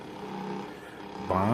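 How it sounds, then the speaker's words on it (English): An electric milk frother whirs while frothing milk for a cappuccino, giving a steady droning buzz that shifts and grows louder near the end. "as soon as this milk finishes frothing up, you're gonna be good to go."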